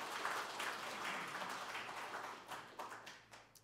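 An audience at a National Assembly Buddhist spring dharma gathering claps together in a fairly faint, steady round of applause that thins toward the end.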